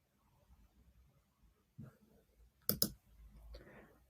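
A computer mouse clicks twice in quick succession to select a map pin, sharp and close in a quiet room, with some faint shuffling and desk sounds before and after.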